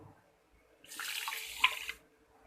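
A short burst of water pours steadily into a pan for about a second, then stops, close and fairly quiet in an otherwise still room.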